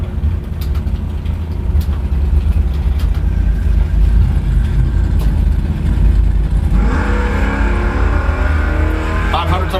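Drag race launch on a quarter-mile strip between a Tesla and a Camaro, with steady crowd and track noise giving way to a loud surge of engine and motor roar in the final few seconds.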